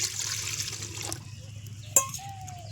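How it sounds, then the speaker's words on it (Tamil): A small amount of water is poured into a pan of chopped banana flower, giving a soft, quiet trickle against a low background hum, with a brief clink partway through. "இப்போ கொஞ்சமாக தண்ணி ஊற்றிக்கலாம்"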